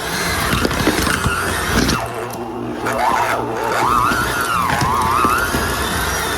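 An electric mixer beats two sticks of butter in a bowl as the first step of chocolate buttercream frosting, a loud continuous motorized whir with shifting pitch and scraping, close up and alone.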